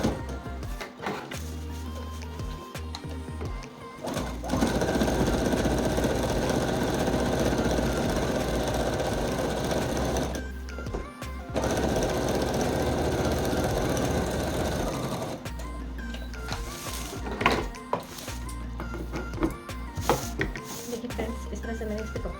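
Sewing machine top-stitching a folded fabric-scrap doormat, running in long steady mechanical bursts with short pauses between them and faint voice in the background.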